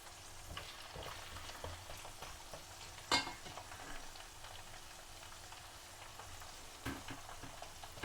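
Garlic cloves frying in oil for a garlic pickle, a steady quiet crackle with a couple of sharper pops and stirring clinks, no voices.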